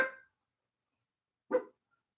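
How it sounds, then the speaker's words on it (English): A lazy dog lying on a couch barks at the door: two short, separate barks more than a second apart, fairly close, in an otherwise quiet room. "I have a lazy dog laying on the couch, barking at the door, not deciding to move."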